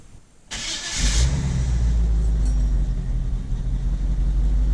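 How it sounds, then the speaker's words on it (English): A carbureted engine in a 1975 Chevy C10 pickup cranks briefly and catches on a cold start, settling into a loud, steady, deep idle rumble close by. "give it maybe 3 pumps, start it up, and here we go."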